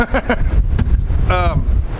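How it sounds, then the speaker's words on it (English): Gusty wind buffets the microphone with low rumbling bursts while a voice speaks briefly over it outdoors near water. "it's windy today"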